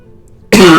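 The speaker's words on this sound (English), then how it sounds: "I am still coughing just a little bit." After a brief quiet moment, a single loud, close cough bursts out and carries to the end.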